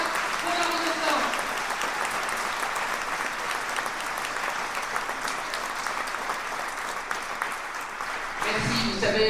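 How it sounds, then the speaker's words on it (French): A political rally crowd at Belfort breaks into sustained, loud applause for Marine Le Pen, a dense roar of clapping with crowd voices mixed in. "Je demande un tonnerre d'applaudissements pour Marine Le Pen et nos compagnons qui se battent pour leur innocence."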